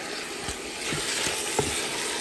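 Mutton pieces sizzle and fry steadily in a pan with crushed ginger and garlic, a continuous close hiss with a few soft stirring knocks.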